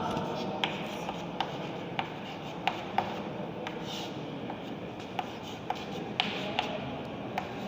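Chalk or marker writing on a classroom board while a teacher explains a Hindi poem, giving soft scratchy strokes with sharp little taps at irregular intervals over a steady room hum, no speech.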